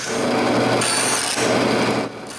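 A power tool cuts oversized wooden dowels for a walnut clock frame, giving a loud, continuous buzzing whine. The tone shifts slightly partway through and the sound eases off near the end.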